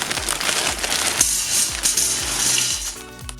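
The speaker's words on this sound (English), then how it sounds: "And then add in about a cup of frozen vegetables." Frozen vegetables tumble into an Instant Pot over a steamer basket or trivet with a cup of water, a close, dense rattle of hard clattering pieces with sharp scattered hits running throughout.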